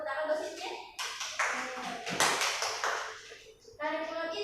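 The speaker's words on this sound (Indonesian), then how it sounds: "tepuk tangan buat sini" Rhythmic classroom clapping from students praising an answer, in short bursts of rapid claps, with a voice and chatter mixed in between.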